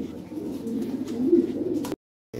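Lahore pigeons, including a yellow male and female pair, coo in soft, low, rolling calls close by, then fall briefly silent near the end.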